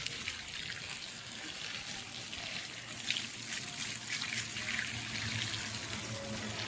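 Water from a pipe pours steadily onto a mango tree, a constant hissing gush and trickle that stays fairly faint and even throughout, with no voices.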